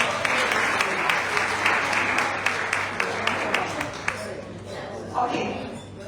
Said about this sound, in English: Give you the round of applause for yourself.